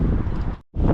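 Strong wind buffets the microphone in a loud, low rushing roar at an overlook above Taal Lake, cutting out briefly before gusting back.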